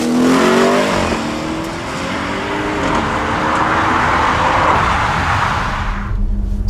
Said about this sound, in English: the introduction and fitment to the Audi Sport Akrapovic titanium exhaust system